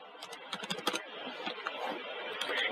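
Rapid bursts of keystrokes on a PC computer keyboard, close and clear, clattering in uneven clusters over a steady background hum with no talking.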